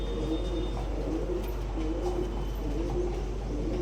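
A pigeon coos in a steady series of low, rolling calls close by, set against a constant loud hum with no talk over it.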